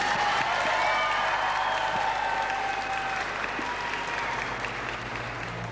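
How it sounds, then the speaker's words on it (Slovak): Audience applause at a children's Christmas nativity performance: steady, full clapping from a crowd fills the whole stretch, loud and continuous, thinning only slightly toward the end. "A preto všetkým jeden veľký potlesk našemu Bohu"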